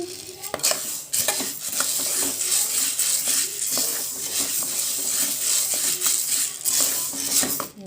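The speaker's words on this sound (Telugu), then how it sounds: "విధంగా మొత్తము పప్పు వేగే విధంగా వేయించుకోవాలి" Moong dal is dry-roasted in a pan while a spoon stirs it constantly, producing close, busy scraping and clinking of the utensil against metal with a faint sizzling rasp underneath.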